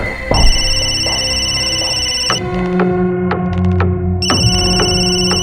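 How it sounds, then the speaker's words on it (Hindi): A telephone rings with a repeating electronic tone, loud and close, with a brief change in the ring pattern partway through and no talking. "यार पृथ्वी, 2 मिनट लगते हैं फोन उठाने में।"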